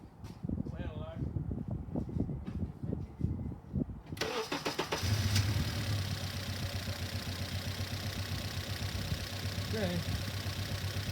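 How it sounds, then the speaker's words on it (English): A car engine cranks and catches about four seconds in, then idles steadily and loudly with a slightly uneven, jumpy rhythm from a lean-running fourth cylinder; someone speaks briefly before it starts. "I will start the car."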